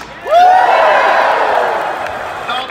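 A large crowd at the Star Wars Celebration Chicago 2019 closing ceremony bursts into loud cheering and whooping that swells quickly, then slowly tapers off.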